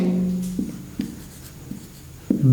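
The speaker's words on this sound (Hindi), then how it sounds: "तो हम लिखते हैं" Pen scratching on paper as an equation is written out by hand during a chemistry class, a few soft strokes and taps between quiet pauses, close and alone.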